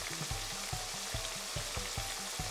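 Potato fries deep-frying in hot oil for poutine, a steady close sizzle and crackle running throughout with a regular soft bubbling pulse, no voices.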